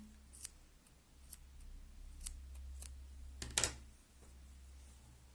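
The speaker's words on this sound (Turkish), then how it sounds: "Ben şimdi keseceğim bu kısmı." Scissors snip through a fabric headband piece: a handful of crisp, quiet cuts spaced irregularly, ending in a quick double snip, close up against a soft low background hum with no talk.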